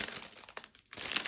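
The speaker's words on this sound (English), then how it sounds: "Sorry, so crinkly." Crinkly clear plastic packaging around 12x12 paper holders is handled up close, with loud, continuous rustling and crackling that dips briefly in the middle before picking back up.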